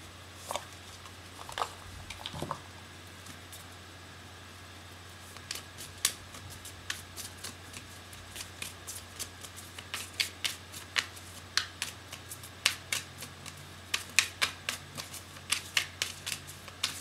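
Soft papery riffling and flicks of oracle cards being shuffled, close and fairly quiet, coming in short irregular bursts that grow busier toward the end.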